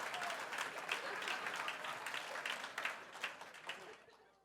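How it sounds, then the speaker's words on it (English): Audience applause at a college day gathering, a dense steady patter of clapping that holds for several seconds and then thins out and fades near the end. "Let's get a round of applause for Tracy Dryden"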